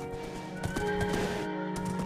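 A horse in Minecraft gives a loud, close whinny with steady hoof clip-clops running underneath, heard alone without talk.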